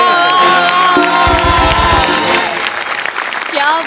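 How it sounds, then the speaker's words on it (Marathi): A comedy show audience breaks into loud, sustained applause with cheering and whoops. Horn-like tones and music ring through it, and shouting voices rise over the clapping near the end. "उभा राहून टाळ्या वाजवतो."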